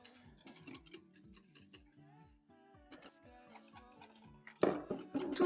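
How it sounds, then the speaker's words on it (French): A wire whisk works skyr loosened with milk in a bowl, giving quick repeated clinks and scrapes against the sides, with a louder burst of stirring near the end. "je vais prendre déjà un peu de lait et je vais détendre le skyr avec un fouet"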